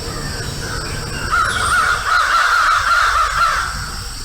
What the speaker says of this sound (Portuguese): Noé abriu a janela que havia feito na arca e soltou um corvo, que ficou voando de um lado para o outro